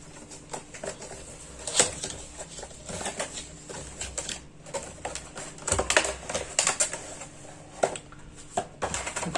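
A Boya BY-MM1 vlogging microphone being unboxed: steady crinkling, tapping and clicking of the package being handled, close to the mic and continuous throughout.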